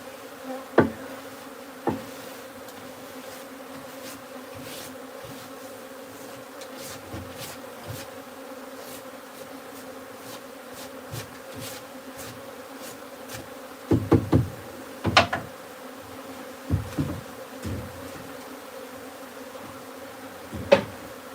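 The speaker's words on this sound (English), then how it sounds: "Look at all those honey-coated bees." Honey-coated bees from a wild hive being transferred into a new home drone with a low steady buzz, broken by occasional knocks and taps from hive framing work.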